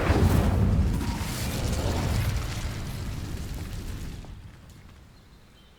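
The Incendio fire spell in Hogwarts Legacy ignites dry vines with a loud, full-bodied whoosh and crackling burst that roars for about four seconds before fading away.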